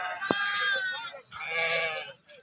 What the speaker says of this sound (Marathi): मेंढीच्या कळपातून लहान वाघरीत ती लहान पिल्ल कशी काढली जाते ती बघा